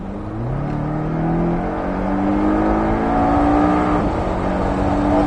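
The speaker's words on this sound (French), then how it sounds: "Et on accélère derrière." A Porsche Cayman S on the Pôle Mécanique d'Alès circuit pulls hard out of a chicane, its engine note climbing steadily through the gears, loud and close with no talk over it.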